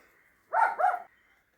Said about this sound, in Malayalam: അവിടെ ഒരു നായ കിടന്ന് കുരയ്ക്കുന്നുണ്ട് കുറേ നേരമായി.